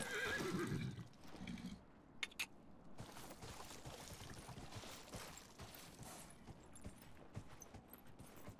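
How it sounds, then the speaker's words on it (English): A horse in Dragon Age Inquisition gives a close whinny at the start, then snorts and huffs over steady clip-clop hooves and flowing ambient water sounds. "I do like how the horse kind of huffs every once in a while."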